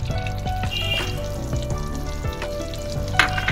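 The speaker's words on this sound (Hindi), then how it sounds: "अब हम इसमें आटा डालेंगे" Wheat flour roasts in hot ghee for halwa while a spoon stirs it. A loud, close sizzle is broken by frequent scraping knocks against the pan, and there is no talk.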